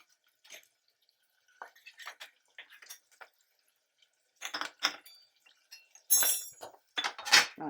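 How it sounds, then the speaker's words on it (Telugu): Tomatoes are added to a pan for a Telangana-style amaranth leaf (thotakura) curry, giving faint scattered clinks, drips and soft taps that come in sparse irregular bursts with quiet gaps between. "ఇప్పుడు టమాటాలు వేసుకుందాం"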